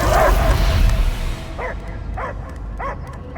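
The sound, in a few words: dog barking in Guardians of the Galaxy video game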